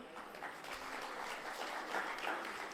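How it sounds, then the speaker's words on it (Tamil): An audience at a Tamil debate show claps, a faint, steady wash of many hands heard from a distance, even and unbroken throughout. "இவ்வளோதான் நீங்கள் கைதட்டுவீங்களா?"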